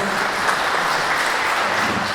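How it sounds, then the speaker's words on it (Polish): Steady audience applause at a municipal safety-day gala in Celestynów, dense continuous clapping filling the room throughout at an even level. "poprosimy o brawa"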